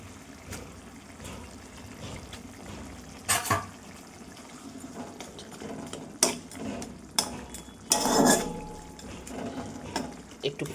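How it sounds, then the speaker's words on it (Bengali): Bata fish are slipped into a pan of thin, boiling cumin curry, giving a few splashy plops and liquid sloshes over a steady bubbling simmer, with a voice talking intermittently. "ফুটে গেছে, মাছগুলো দিয়ে দেবো এবারে।"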